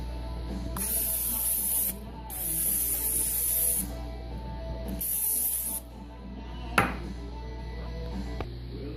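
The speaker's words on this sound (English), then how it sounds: "go ahead and spray your non-stick cookie sheets with a non-stick spray." Non-stick cooking spray hisses onto non-stick cookie sheets in three close, steady bursts of one to two seconds each, separated by short pauses, followed by a brief clunk of a metal sheet.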